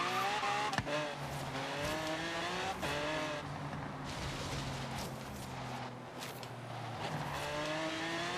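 A Lamborghini Miura in Forza Horizon 3 skids through a tight turn with the parking brake pulled, engine droning steadily under a long tire squeal, close and continuous with no talking.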